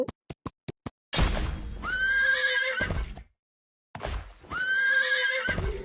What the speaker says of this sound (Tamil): குதிரை இருக்குடா.